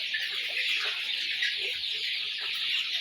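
Chickens on a farm clucking steadily as a flock, forty-day-old brown cockerels, a dense continuous chatter of overlapping calls heard close, with no talk over it.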